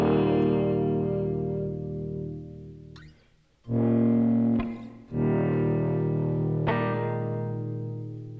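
Sustained electric guitar chords run through a Chroma Console pedal with reverb, ringing and lightly distorted, with two brief breaks where the sound cuts before new chords swell back in.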